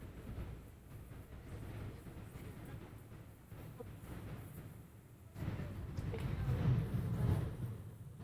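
Rumbling interior of a moving passenger train, a steady low rattle and roar that swells louder in the last few seconds, with no voices.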